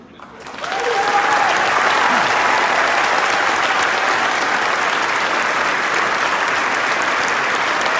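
A large crowd bursts into loud, sustained applause at a police recognition ceremony, rising quickly within the first second and holding steady and dense to the end, with faint voices under the clapping.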